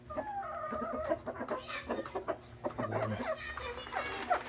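Rhode Island Red hens cluck repeatedly at a steady, busy pace, mixed with other farmyard chicken calls, close by over a constant low background hum.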